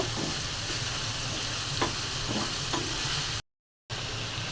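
Prawns fry in hot oil with onion and spices, giving a loud, continuous close sizzle with a few soft stirring scrapes, broken once by a brief cut to silence.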